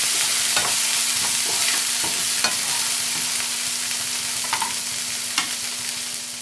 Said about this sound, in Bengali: মশলাটাকে এবার ভালো করে কষিয়ে নিতে হবে।